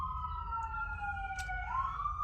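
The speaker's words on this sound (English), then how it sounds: "it's just like so many sirens" A distant siren wails steadily, its pitch slowly falling and then rising again, over a low rumble of traffic.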